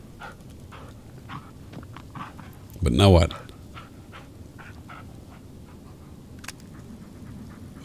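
A dog companion named Bullet pants in the Blair Witch video game, with a short, loud burst of breathy panting in the middle of a man's ongoing speech over low ambient game noise.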